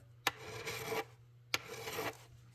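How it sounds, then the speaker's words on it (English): A metal file rasps across guitar fret wire while frets are being levelled and crowned on a restored guitar: two separate strokes, each opening with a sharp bite and then a steady, close scraping rasp, with a low hum underneath. "I'll hit it with a file this time."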